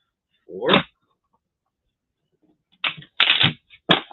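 A few quick riffling bursts of cards being shuffled, one short burst then a pause before three more in quick succession.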